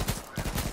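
Gunfire in the online survival shooter H1Z1 comes as a quick burst of several loud, closely spaced shots, briefly interrupted by a short gap.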